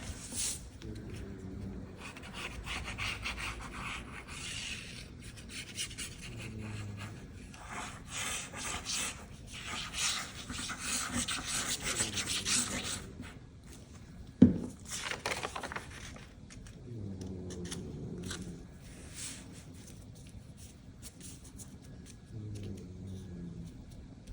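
Ink is rubbed onto paper for an accordion ephemera craft, giving soft repeated scrubbing and scraping strokes up close, with quiet handling noises and one sharp tap partway through.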